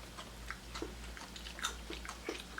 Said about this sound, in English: Alright, bite. And Baba's gonna bite too.